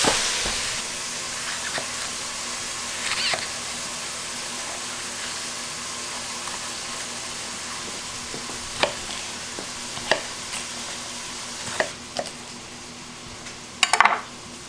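Meat browns in a pan for Hungarian goulash with a steady faint sizzle, while a knife taps sporadically on a cutting board as vegetables are cut, with occasional clinks of utensils.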